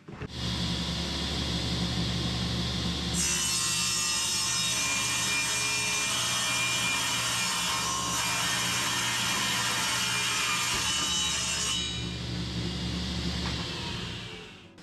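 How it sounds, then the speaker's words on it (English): A saw rips along the other side of a wooden board for a computer table top, a steady motor drone that rises into a louder, brighter cutting roar for about nine seconds before falling back to the idle hum, close and with no talk. "make an adjustment in the width of the fence, and cut the other side"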